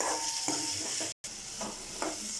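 Ingredients for pirandai chutney sautéing in a pan, a dense close sizzle with rhythmic stirring scrapes and a brief cut to silence midway.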